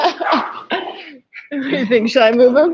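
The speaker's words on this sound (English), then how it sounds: "our puppies who are currently running around the floor like mad dogs. So if you hear them in the background," Puppies bark and yip indoors, close and loud, with sharp short barks and whimpers mixed in among people talking in the room.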